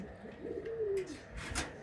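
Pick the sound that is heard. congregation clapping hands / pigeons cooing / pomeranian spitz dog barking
pigeons cooing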